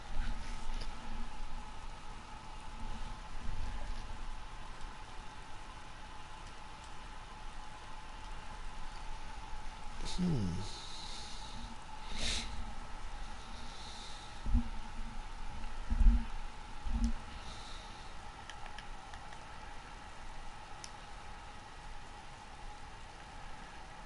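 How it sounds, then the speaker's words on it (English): Rain falls steadily in the DayZ survival game on PS4, a soft, even hiss throughout with a few faint knocks and thumps, no talking. "bloody raining again."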